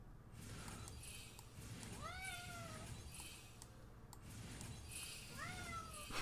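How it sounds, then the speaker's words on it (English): A pet cat meows twice, two drawn-out, faint meows a few seconds apart, heard against a steady background hum. "He's meowing at me."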